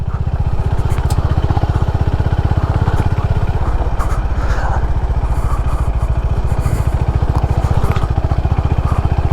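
A Honda H'ness CB350 motorcycle on an off-road ride thumps with a loud, steady low engine pulse close up, holding an even rhythm throughout with rattles and wind noise on top.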